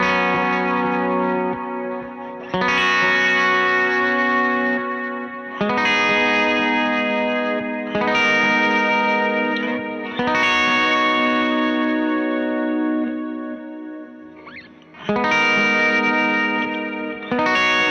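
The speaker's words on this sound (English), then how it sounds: "Here's some delay, a smaller amount of reverb." Sustained electric guitar chords ring out in bursts with echoing repeats and a wash of reverb, each strum decaying into trailing delays.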